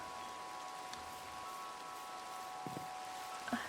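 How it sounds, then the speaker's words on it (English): Steady rain falls in Minecraft, a faint, even hiss of drops that runs throughout, with a couple of soft knocks near the end. "I realized it's still raining"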